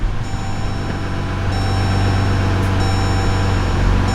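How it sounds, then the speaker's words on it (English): A 2015 Jeep Grand Cherokee WK2 with a 3.0 diesel engine settles into a steady idle, a loud low hum with faint electronic tones layered on top. "go ahead, jump in your vehicle, fire her up"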